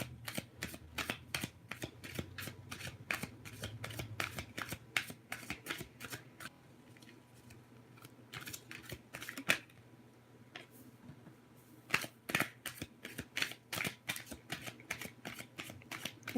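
Tarot cards are shuffled for a reading with close crisp riffles and snaps in quick runs, pausing briefly midway before resuming, with no voices.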